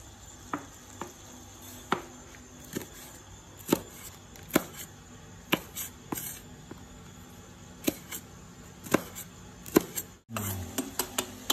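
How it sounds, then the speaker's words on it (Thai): Chilies are chopped with a knife for a Thai dish, a steady series of sharp, separate board knocks about one per second, with a soft sizzle in the background and no talk. "แล้วก็หั่นพริก"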